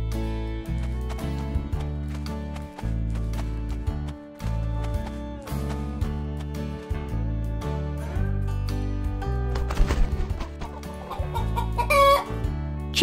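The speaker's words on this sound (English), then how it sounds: "Chicken." A chicken clucks in a string of quick, choppy calls over bouncy children's music, rising to louder squawks toward the end.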